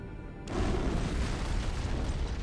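In the Halo video game, an antimatter charge detonates aboard a ship: a sudden deep boom cuts in after a quiet moment, then a sustained roaring, rumbling blast fills the rest, loud and dense with no voices.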